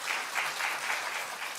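Brief applause from a church congregation honoring the worship department's art team, a short burst of many hands clapping at steady volume.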